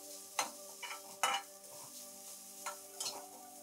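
Grated coconut roasting in melted ghee crackles softly as a spoon stirs it, with a few sharp scrapes and taps against the pan over a quiet, low sizzle.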